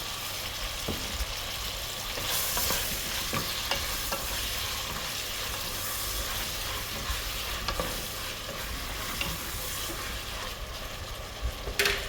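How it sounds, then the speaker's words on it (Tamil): Tomatoes with salt sauté in a pan for vathal kuzhambu, giving a steady close sizzle with soft scraping stirs throughout and a few louder clinks near the end. "தக்காளி மட்டும் கொஞ்சம் வதங்கட்டும்"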